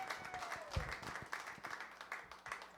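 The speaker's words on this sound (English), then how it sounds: "let's give her a good round of applause for Sharon Walker." Faint applause from an audience at a singer-songwriter competition final, a dense patter of clapping that sounds distant and thin, holding steady throughout.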